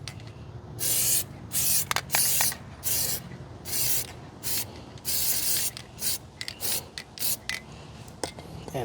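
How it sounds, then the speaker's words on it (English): Spray adhesive hisses out in a dozen or so short, loud bursts of uneven length, close up and without speech, as it is applied to an RC car tire sander build. "paint spatula with my adhesive and just kind of spray it on there."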